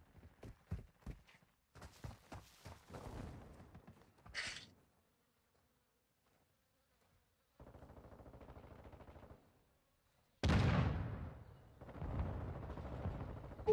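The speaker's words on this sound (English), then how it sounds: "Hostile mortar strike near your position" Mortar rounds slam down in Modern Warfare II gameplay, with loud bursts of gunfire and impacts, a brief sharp hit, a lull, then a heavy booming blast followed by a long rumbling tail of battle noise.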